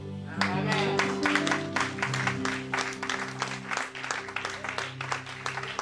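A church congregation applauds in a stretch of rapid clapping that rises and falls, mixed with sustained voices or music beneath it.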